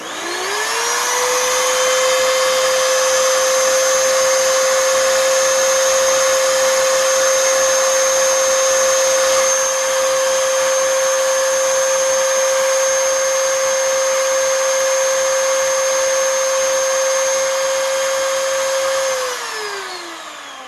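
An Oreck XL2800 vacuum cleaner motor, with replaced bearings and seated carbon brushes, spins up, holds a steady loud whine for about twenty seconds, then winds down, with no voices over it.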